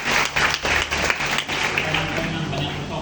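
A congregation applauds at an evening revival and healing service in a church, steady clapping filling the room with a voice talking over it.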